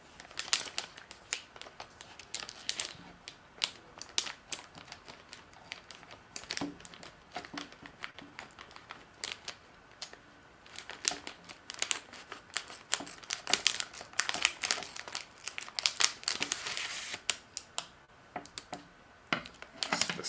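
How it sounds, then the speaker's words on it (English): Close-up crinkling and snipping as scissors cut open plastic bags of Lego pieces, with scattered rustles and sharp clicks and no talking. "Cut open the bags again."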